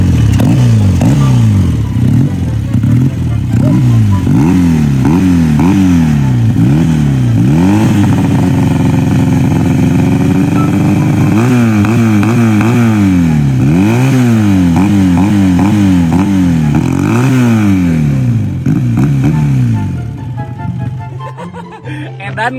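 A Honda Supra motorcycle engine revs loud and close, rising and falling in repeated throttle blips with a steady idle between, then tapering off near the end.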